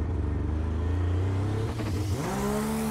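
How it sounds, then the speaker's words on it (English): Race car on a timed fastest-lap run with Joseph Parker at the wheel, its engine droning loud and close, dipping briefly and then climbing again in pitch under hard throttle, with no talk. "He is hard on the throttle."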